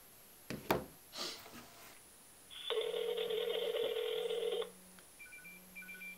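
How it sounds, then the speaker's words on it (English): Phone ringing nearby after a few knocks and handling clicks: one long electronic ring burst, then quieter short chirping tones afterward. "Oh, it's ringing."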